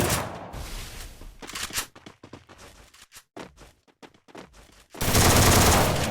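Thompson and MP40 submachine guns fire in a video game in rapid bursts of automatic fire, with a burst near the start, choppy shots in the middle and a loud sustained volley at the end.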